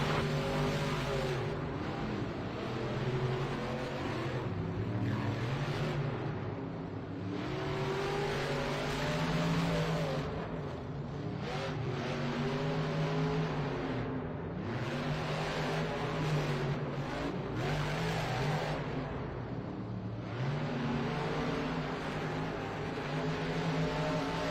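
Monster trucks racing head to head in the Monster Jam racing finals at an indoor stadium in Minneapolis, including the JCB Digatron truck, with loud engines roaring and revving continuously, rising and falling in waves.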